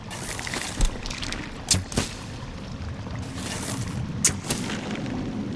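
Gunfire in Sons of the Forest, a few sharp loud shots spaced a second or two apart over a steady low outdoor rumble.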